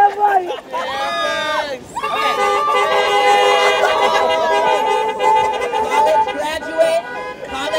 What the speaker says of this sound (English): Let me get some applause. Honk up for Price.